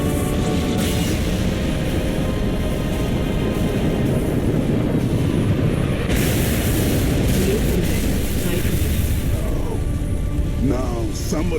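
Supercarrier being destroyed by an enemy supercarrier in the Halo Reach video game, a loud continuous roar of explosions and rumbling wreckage with voices talking over it.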